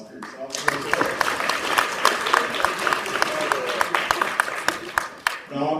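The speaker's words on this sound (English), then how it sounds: "another round of applause for yourself" Steady applause from a crowd at a board of directors forum, many hands clapping densely for several seconds with a few sharper claps standing out, then tapering off.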